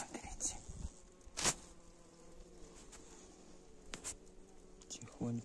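Honeybees in a wintering hive cluster give a faint, low, steady hum when the cover is lifted for an inspection, with rustling handling noises and quiet talk over it.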